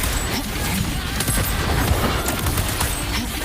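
Gunfire in the video game Wuthering Waves, a dense continuous barrage of shots and impacts mixed with game effects, loud and busy throughout, with a voice line faintly present.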